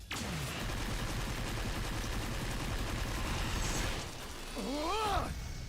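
Rapid gunfire and explosive battle effects from a Death Battle animation of Ratchet & Clank versus Jak & Daxter, loud and dense throughout, followed by a warbling synthetic whine near the end.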